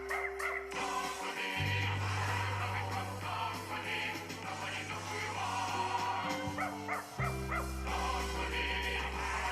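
Dog barking and yipping in a song, with sustained musical tones backing the barks throughout.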